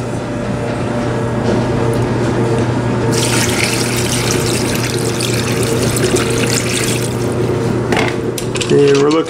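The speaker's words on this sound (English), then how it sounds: "So next it's going to need some water." Water runs from a tap into a rock tumbler barrel filled with crazy lace agate stones, a steady loud rushing stream with a brief splashy burst near the end and no speech.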